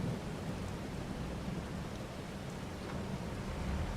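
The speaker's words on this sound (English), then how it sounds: "Oh yeah, here comes the rain" Steady rain in Farming Simulator 22 on a pig farm in the Carpathian countryside, a continuous broadband hiss with a low rumbling underlayer, even and unbroken throughout with no voices.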